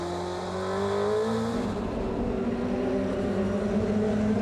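A DTM race car brakes at the Nürburgring during a sprint race, its engine droning steadily up close with a falling whine as it slows, loud and continuous.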